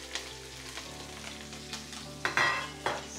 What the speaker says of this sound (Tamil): வதக்கிட்டு இப்போ வந்து வெட்டின சின்ன வெங்காயம், நசுக்கி எடுத்த பூண்டு,